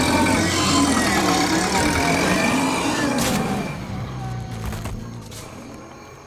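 A car engine drones steadily as the vehicle drives along, a close, continuous rumble that fades and drops in level partway through, with a few brief clatters near the end and no talk.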